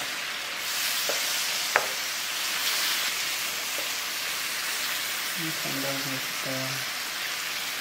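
Steak with teriyaki sauce sizzles steadily on an at-home hibachi grill, a close hiss like light rain, broken by a few utensil clicks and brief muffled voices near the end.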